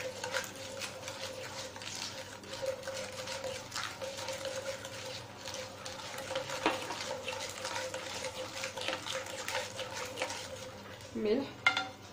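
Eggs being beaten with sugar and oil in a bowl for a butter-free biscuit dough, a continuous rhythmic clatter of a spoon or whisk against the bowl, close and moderately loud.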